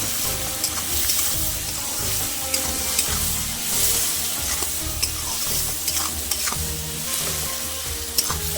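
Tomatoes frying in a pan with turmeric and sweet spice powder, a steady close sizzle broken by repeated scraping stirs and light clinks throughout, with no talk.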